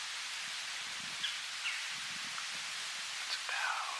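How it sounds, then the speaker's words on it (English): Strong, steady wind rushes through autumn woods in Missouri, a broad continuous hiss that never lets up, with faint brief rustles and ticks poking through, heard from a hunting spot in the trees. "This wind is just relentless."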